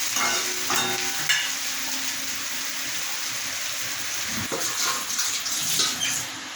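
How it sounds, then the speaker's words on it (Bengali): Water is poured into a hot kadai of curry, which is then covered with a lid. A loud, continuous rushing hiss and sizzle carries through with a few knocks, and there is no speech. "এটা আমি জল দিয়ে ঢাকনা দিয়ে দেবো।"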